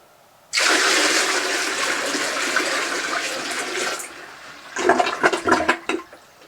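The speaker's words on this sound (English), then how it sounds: "Take a full bucket of water and we're going to dump it in rapidly, and that will cause a siphoning effect" A full bucket of water is dumped rapidly into a toilet bowl, a loud continuous rushing gush lasting several seconds, then breaking into gurgling, splashy siphoning bursts as the bowl drains low.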